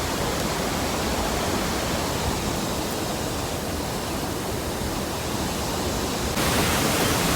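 Bopath Ella waterfall in Sri Lanka roars with a loud, constant, close rush of falling water that fills the whole scene, with no voices.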